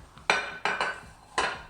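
An 8x8 cornbread pan is handled and set down for coating with butter, giving three or four sharp, close clanks and knocks in an uneven rhythm, with no talking.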